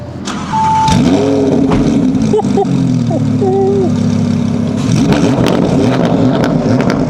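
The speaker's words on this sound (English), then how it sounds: "Straight pipe V10 naturally aspirated engine." A straight-piped, naturally aspirated V10 in an Audi R8 GT fires up and idles loudly up close, with a low rumbling drone and brief blips, while people talk faintly over it.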